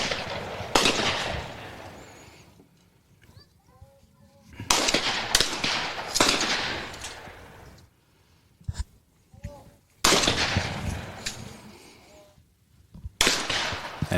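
Shotgun blasts at a high school trap and skeet team shoot, with several loud sharp reports echoing outdoors. Each blast is followed by a quieter gap, and people talk between the shots.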